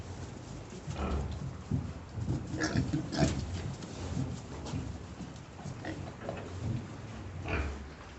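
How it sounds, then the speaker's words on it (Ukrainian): Continuous low grunting and snuffling from several small pigs close by, with soft rustling movement throughout. "такі поросятка від неї"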